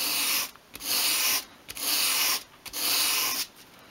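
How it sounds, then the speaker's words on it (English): Three steady strokes of a miniature 1/12th-scale wooden cabinet piece swept across sandpaper at a 45-degree angle to bevel its edge, each a close, even, raspy rub separated by short pauses. "hold the piece against your sandpaper at a 45 degree angle and just sweep it towards you"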